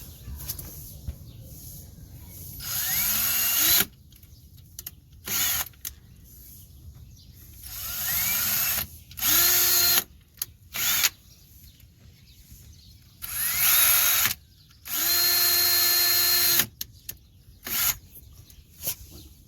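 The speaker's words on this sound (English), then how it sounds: "now let's pre-drill the holes" A power drill whirs in several short bursts while pre-drilling holes for mudflaps, each spinning up and stopping, separated by quieter pauses with faint background rustling.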